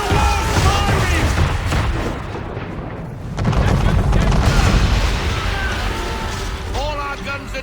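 Heavy booming cannon fire from a man-o'-war warship in Assassin's Creed 3, loud rumbling blasts under shouting voices.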